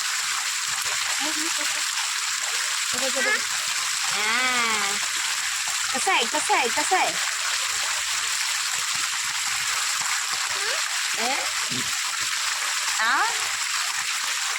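Children's voices call and chatter over a constant rush of flowing, splashing water that fills the background throughout.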